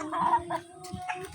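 A chicken clucks in a few short, close bursts with brief pauses between them in a quiet setting.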